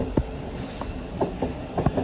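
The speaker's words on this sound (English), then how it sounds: "717012 is now leaving for Stevenage via Hertford North." A train rolls past on a line in North London, its wheels giving off a series of rhythmic clicks and knocks over the rails, loud and close with a steady rumbling underneath.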